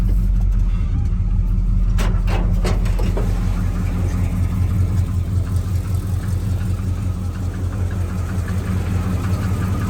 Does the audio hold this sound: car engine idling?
yes